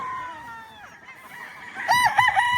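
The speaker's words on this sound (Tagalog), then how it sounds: "Napakagwapong mga manok dito mga boss, ito sa farm niya." Local banded roosters and chickens on a farm crow loudly and close by near the end, several overlapping cock-a-doodle-doo calls rising over softer clucking and background fowl noise.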